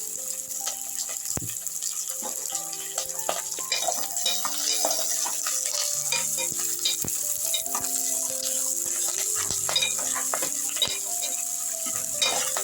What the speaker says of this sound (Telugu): ఇది 1 నిమిషం బెండకాయ ఫ్రై చేస్తాం